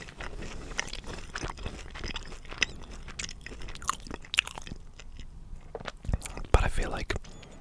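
Close, quiet chewing and crunching of Hungry Jack's fries, with soft biting crackles and mouth sounds scattered irregularly through the stretch, alone with no talking.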